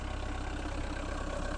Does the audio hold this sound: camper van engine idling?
yes